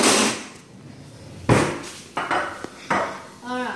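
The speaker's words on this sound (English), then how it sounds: "I could get out a cooking tray." A metal cooking tray is pulled out in a home kitchen, with several sharp clanks and clatters of metal against metal, close and loud, ending in a faint ringing ping.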